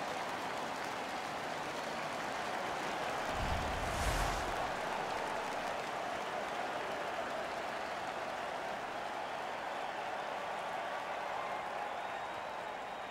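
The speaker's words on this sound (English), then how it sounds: "The home crowd is ecstatic." A home crowd at an NHL 15 hockey game cheers and claps in a dense, continuous wash of noise, swelling briefly near the middle, with a low thump, and it stays at a moderate level throughout.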